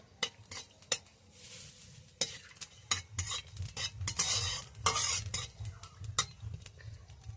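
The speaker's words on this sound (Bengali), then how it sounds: "ফোড়নটাকে একটু নেড়ে নেব।" A spoon stirs cinnamon, cardamom, cloves and five-spice tempering in hot oil for a mango chicken curry: sharp intermittent clinks and scrapes against the pan over a soft, continuous sizzle.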